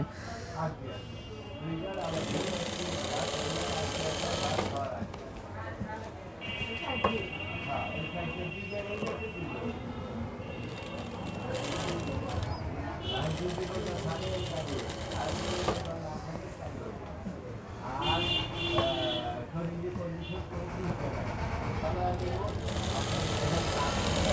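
Sewing machine stitching the armhole seam of a Panjabi, running in long bursts of rapid whirring with short pauses between, up close, while a voice talks throughout.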